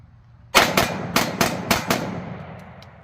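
A WASR-10 AKM rifle is fired rapidly: six sharp, loud shots in quick succession, close, each trailing a short echo, with no talk.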